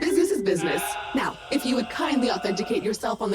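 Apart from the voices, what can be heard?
No everyday noise stands out behind the speech.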